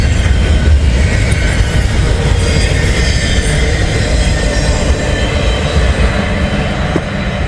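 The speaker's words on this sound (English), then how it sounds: "there goes Norfolk Southern 26C" Norfolk Southern freight train 26C rolling past close by, a long 196-axle consist with steady loud rumble, rail noise and faint wheel squeal throughout, no talking.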